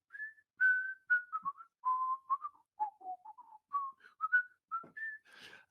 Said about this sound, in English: I started whistling this tune